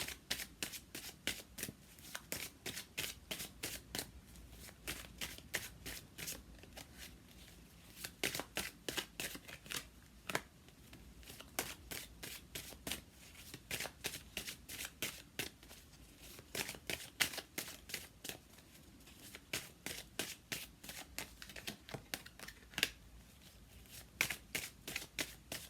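Tarot cards being shuffled by hand at close range, a long run of crisp riffling bursts and soft flicks repeating in quick irregular rhythm, quiet and alone with no talk.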